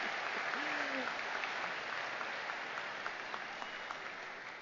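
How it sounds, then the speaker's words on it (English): A crowd at a Washington University convocation claps steadily in dense, even applause that holds at the same level throughout. "That is worth a clap."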